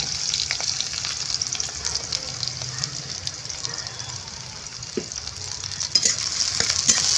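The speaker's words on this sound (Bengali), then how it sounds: "পেঁয়াজটাকে হালকা লাল লাল করে একটু ভেজে নেব আমি" Sliced onions frying in a pan with garlic and green chillies, giving a loud, continuous hissing sizzle close up that holds steady the whole time, with occasional small stirring knocks.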